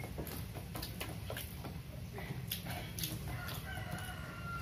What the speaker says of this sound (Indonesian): Ini ayam kok nakal banget